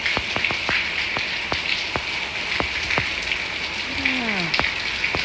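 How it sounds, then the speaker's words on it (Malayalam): Heavy rain falls steadily on a surface as a constant close hiss, with scattered sharp drips and a brief warbling sound toward the end. "നല്ല മഴ പെയ്യുന്നു"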